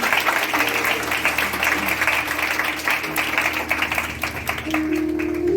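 A congregation gives loud, sustained applause during a Palm Sunday church sermon, a dense wash of many clapping hands with a faint voice beneath, continuing steadily before thinning a little at the close.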